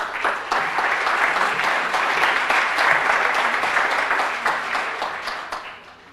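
A conference audience applauds steadily, thick clapping that holds strong and then gradually thins and fades toward the end.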